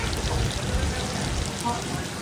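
Rain falls in a steady, close hiss of drops on a surface, continuous throughout with faint voices in the background.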